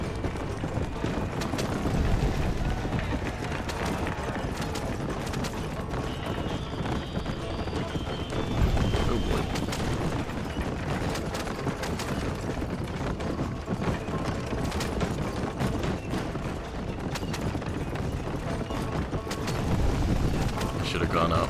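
Rhythmic hoofbeats of a galloping horse in Red Dead Redemption on Xbox One, steady and continuous over a dense game soundscape with occasional whinnies.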